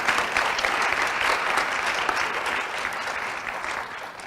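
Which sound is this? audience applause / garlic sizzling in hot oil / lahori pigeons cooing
audience applause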